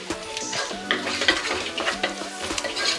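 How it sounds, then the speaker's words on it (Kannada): A handful of washed, finely chopped greens fries in oil for Andhra-style dal, with a close, steady sizzle under frequent scraping and clinking from a spoon stirring the pan, and no voices. "ಅದಕ್ಕೆ ಇದನ್ನು ನಾನು ಎಣ್ಣೆಯಲ್ಲಿ ಫ್ರೈ ಮಾಡ್ಕೋತಾ ಇದ್ದೀನಿ"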